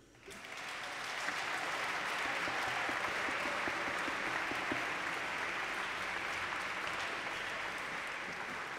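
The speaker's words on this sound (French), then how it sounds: "On peut les applaudir" A congregation at a youth Mass for the Immaculate Conception applauds the scouts, the clapping swelling within the first second and holding as a broad, even roar of many hands in a reverberant church.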